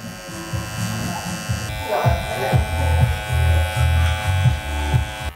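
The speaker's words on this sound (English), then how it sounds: "Now these are a lot sharper than my big clippers." Small electric clippers trimming a beard, a steady close buzzing hum running throughout with slight variations as the blade moves through the hair.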